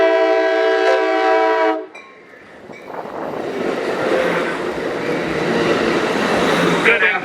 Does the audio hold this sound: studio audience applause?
no